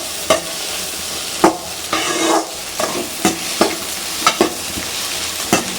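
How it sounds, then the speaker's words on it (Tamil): Vegetables for egg fried rice stirred in a hot oiled pan, with repeated spatula scrapes and knocks in a steady rhythm over a continuous sizzle, close up. "அடி பிடிக்காமல் நல்லா கிண்டிக்கோங்க."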